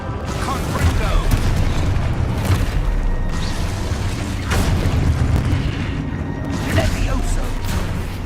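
Booming spell blasts going off in Hogwarts Legacy, heavy repeated low explosions and bursts rolling over continuous battle noise.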